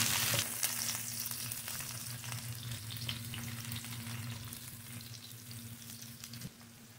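Crushed garlic sizzling in a pan: a loud, steady frying hiss over a low constant hum, easing slightly toward the end, with one brief knock.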